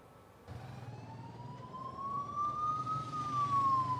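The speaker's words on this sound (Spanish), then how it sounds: "la ambulancia que traía a Daniel Salcedo a su destino, la cárcel del Inca, llegaba al centro de detención." An ambulance siren wails as the vehicle arrives at night at the El Inca prison detention centre. A single rising tone slowly climbs over a low engine rumble and grows louder as it approaches, with no talking.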